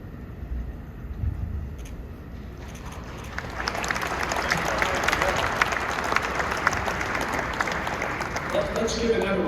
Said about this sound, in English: Let's give another round of applause for the Pacer Sports and Entertainment